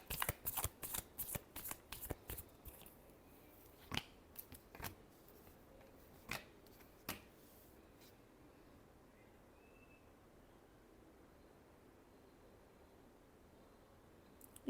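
Tarot cards being shuffled produce a quick burst of riffling flicks, then scattered single snaps that thin out into near silence, close and fairly quiet.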